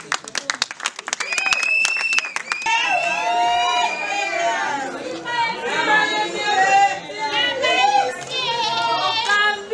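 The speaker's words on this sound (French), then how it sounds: "je vous demande d'applaudir très fort." Applause and cheering from a crowd at a civil wedding ceremony, starting with a few sharp claps and swelling into sustained clapping with whoops, shouts and lively voices, loud and close throughout.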